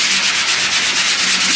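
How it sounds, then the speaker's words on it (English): Bondo body filler being sanded with 80 grit sandpaper, a loud, close, steady rasping hiss with even back-and-forth strokes and no talk. "What grit are you sanding with?"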